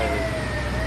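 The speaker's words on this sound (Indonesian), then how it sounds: "Ini satu unit damkar lagi yang melintas di belakang Pasar Baru." A fire engine drives past behind a market during a market fire, heard as a loud, close siren wail over a heavy engine and traffic roar, with no voices.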